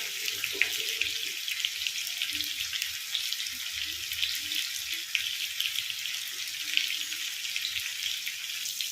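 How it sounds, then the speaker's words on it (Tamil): Masala-coated sheela fish frying on a tawa, a continuous bright hiss and sizzle holding steady with soft crackles throughout, nearby and alone without talk. "மீனை நம்ம தவாவில் போட்டுக்கோம். நல்லா வேகுது."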